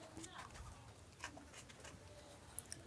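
Quail in a small farm enclosure, faint scattered chirps and soft scratching patter at a distance under low background noise, with a couple of sharp brief calls near the end.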